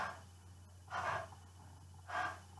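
Two forceful 'ha' breaths pushed out from the stomach, short bursts of airy exhalation about a second apart, close and fairly quiet over a low steady hum.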